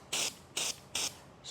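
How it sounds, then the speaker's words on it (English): White lithium grease sprayed from an aerosol can onto tube bender dies and tubing, three short loud hissing bursts followed by the start of a fourth, close up with brief pauses between. "I spray it on the dies and I spray it on the tubes to keep them from marring"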